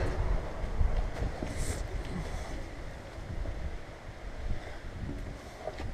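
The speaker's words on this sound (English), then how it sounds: "So that's the subway." A train rumbles past nearby, a steady low roar with rattling and some wind buffeting, no voices.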